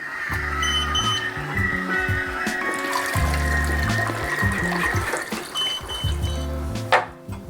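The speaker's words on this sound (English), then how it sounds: "Okay, I'm gonna pour the rinse out." Rinse liquid pours out of a film development tank during home colour film processing, a steady trickling, gurgling flow with rhythmic low bubbling pulses that ends with a brief clatter.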